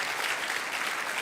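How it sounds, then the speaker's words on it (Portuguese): A conference audience gives a brief burst of steady, dense applause, an even wash of many hands clapping without pauses or talk. "Give them a big hand."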